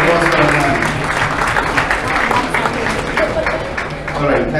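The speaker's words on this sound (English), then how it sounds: "Can we have a round of applause for Adnan?" Loud, close applause from a crowd at a closing ceremony of a model UN conference, continuous and dense with some voices mixed in beneath the clapping.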